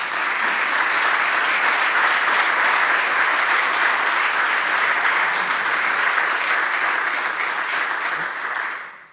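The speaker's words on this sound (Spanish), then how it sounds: "Un aplauso para doña Inés." An audience at an awards ceremony applauds Inés Casas as she is invited on stage, a dense, even round of clapping that holds steady for several seconds before tapering off.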